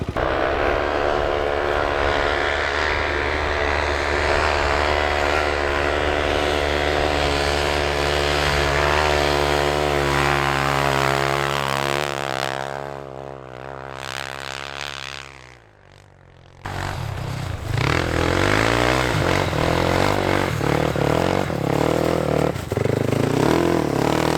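Polaris Predator sport quad engine running outdoors in a field, a loud steady drone that climbs in pitch, drops away briefly near the end, then comes back hard with revving.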